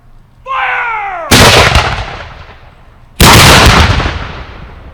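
A shouted command rings out before two loud, booming musket volleys at a living history reenactment at Fort Malden in Amherstburg, Ontario, each blast rolling off into a long fading echo outdoors.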